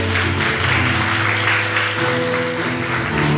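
A congregation applauds in a church after a sermon, a steady, loud wash of clapping that continues without a break and fills the room, with no voices rising above it.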